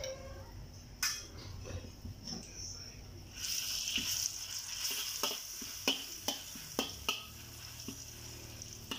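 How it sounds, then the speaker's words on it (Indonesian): Minced garlic dropped into hot oil in a pan, sizzling and frying over low heat, with spatula scrapes and stirring clacks standing out as sharp knocks; faint background water or kitchen noise. "so pertama kita akan masukkan bawang putih yang sudah dihaluskan"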